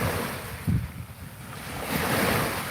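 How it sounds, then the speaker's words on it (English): Water rushes steadily as a continuous broad hiss and rumble, fairly loud and close, with no voices. "I'm not sure if this water's too loud, but I'm gonna let it simmer down."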